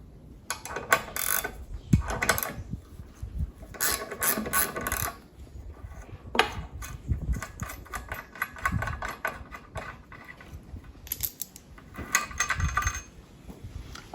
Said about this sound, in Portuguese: Você vai tirar o disco da ferramenta.